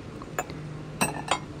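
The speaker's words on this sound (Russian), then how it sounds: "Вот такой с Дед Морозом стакан." A ceramic Ded Moroz mug clinks on a store shelf among cheap holiday dishware, giving about four light, sharp taps spaced apart over a faint low hum.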